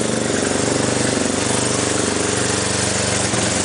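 Small motorbike engine idling close by, a steady low chugging pulse that runs without break and stays fairly loud throughout, with no voices.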